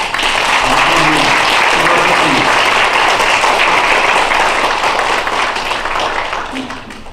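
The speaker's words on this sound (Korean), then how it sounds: "우리 모든 성도들을 격려하면서 우리 큰 박수를 한번 했으면 좋겠습니다" Church congregation giving a big round of applause, dense loud clapping that fills the room and tapers off near the end, with a few voices mixed in.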